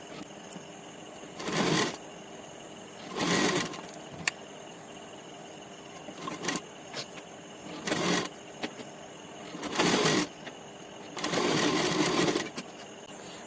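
A sewing machine stitches a pocket onto a half panjabi in several short bursts, each a second or two of rapid whirring separated by quiet pauses, close and clear with no talk.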